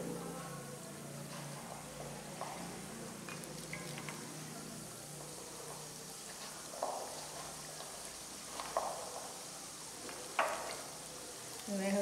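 Masala-coated peanuts fry in hot oil with a steady, soft sizzle that runs throughout, broken by a few faint crackles and stirring sounds, all close but quiet.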